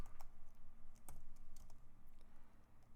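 A computer keyboard is typed on in quick, light keystrokes with a few louder taps, close by and fairly quiet over a low background hum.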